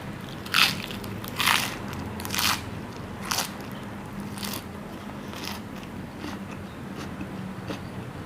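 Fresh raw vegetables are bitten with Isan sausage and chili dip, giving a series of sharp close crunches about once a second that fade into softer chewing.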